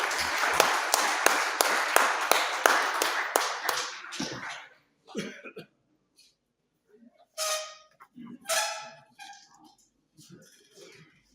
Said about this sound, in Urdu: بے پناہ تالیوں میں استقبال کریں